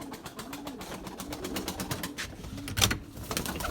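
A large flock of pigeons kept for flying, among them a blue male and a hen, coos in a steady, overlapping murmur with repeated soft calls and fluttering, one louder burst near the end.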